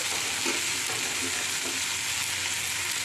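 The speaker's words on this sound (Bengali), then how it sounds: "এবার ঢাকাটা খুলব আর নাড়াচাড়া করে নেব।" Prawns fry in a pan with a steady, dense sizzle and the soft scrape of stirring, close and continuous with no talking.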